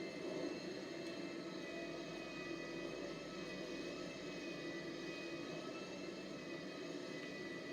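A Boeing 747 in the GTA video game gives a steady, loud airliner drone, a constant engine roar holding level across the whole stretch with no voices over it.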